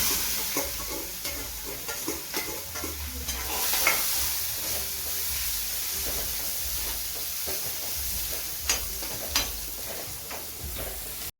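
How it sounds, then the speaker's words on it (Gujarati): Onion sautés in a hot pan with cumin and asafoetida for a cashew gathiya curry. A steady close sizzle of frying runs throughout, broken by repeated scraping and clicking of a spoon stirring the pan. "હવે ડુંગળી સાંકળી લઈશું"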